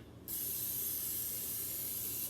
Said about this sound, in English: We're going to spray it with no cooking spray